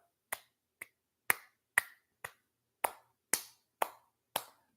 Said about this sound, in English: I'll give a golf clap.